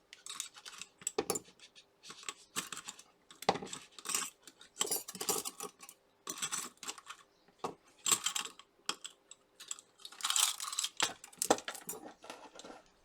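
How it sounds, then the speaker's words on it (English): Assorted metal tweezers for micro soldering rattle and clink in a small pot of tools: quick bursts of light metallic clicking, close and fairly quiet, with brief pauses between handfuls. "So in my little pot of tools here, I got a wide range of tweezers."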